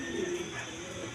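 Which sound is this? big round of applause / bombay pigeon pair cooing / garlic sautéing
bombay pigeon pair cooing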